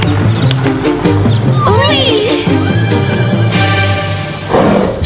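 A mare neighs in a wavering whinny over the middle of the clip. Voices and background music from a French drama run underneath.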